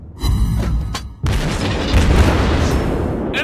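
Heavy naval gun blast from a Tier 7 Soviet battleship, the Sinop, in World of Warships Blitz: two loud booming shots close together, the second opening into a long rumbling roar that sustains to the end.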